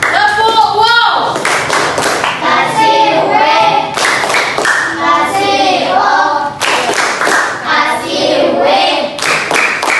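Fourth-grade pupils in a classroom clap in rhythm, bursts of patterned hand claps alternating with a teacher's chant and children's voices, loud and close.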